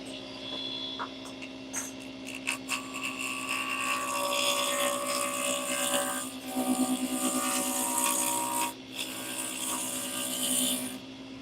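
A wood lathe spins teak at full speed, about 3,800 RPM, while a round carbide tool cuts it, a loud steady whine with sustained tonal hum and bursts of rougher scraping as the cut bites, continuous throughout.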